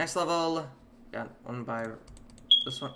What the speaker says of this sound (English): Oh, that was a smoke alarm. I haven't changed the batteries on it.